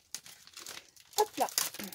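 Tape is peeled and pulled off the back of a mail package, producing close crinkling and tearing bursts that grow louder toward the end, with someone speaking over it.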